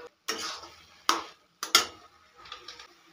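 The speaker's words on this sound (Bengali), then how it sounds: "গুঁড়ো দুধটা হালুয়ার সঙ্গে খুব ভালো করে মিশিয়ে নেব।" A spoon scrapes through carrot halwa with powdered milk in a pan, giving three or four separate stirring strokes of scraping and clinking with short quiet gaps between them.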